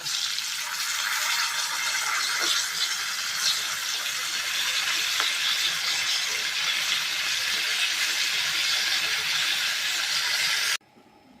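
Fish frying in hot oil gives a steady, loud hiss that holds evenly for about eleven seconds and then cuts off sharply near the end.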